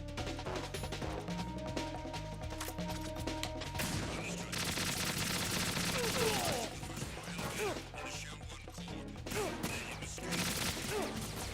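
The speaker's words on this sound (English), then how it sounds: "Oh, a shotgun?" Shotgun fire in the video game Metal Gear Solid 2, loud repeated blasts and crashing impacts amid dense game action and music, continuous throughout with sharp bursts near the middle and end.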